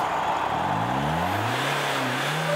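Monster trucks at a monster truck rally, a steady engine drone with a rising rev sweeping up, heard from a distance over constant background noise.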